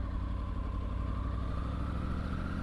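A Triumph motorcycle, apparently a Trident, rides past in the rain, its steady mid-pitched engine hum blending with continuous wind and road noise.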